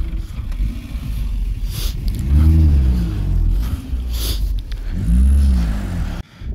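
A car stuck in desert sand in Ladakh near the twin lakes, its engine revving hard in two long strained surges with wheels spinning, a loud rumbling drone that rises and falls before abruptly cutting out.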